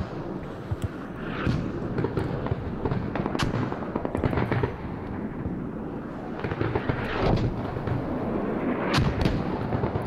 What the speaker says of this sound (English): Enemy EXD and SPH dropping mortars on gas station on the north side